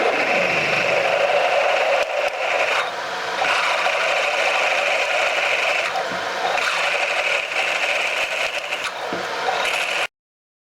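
A 3/8 bit bores a second hole, a steady mechanical whir and grinding hum running with brief dips for about ten seconds before cutting off.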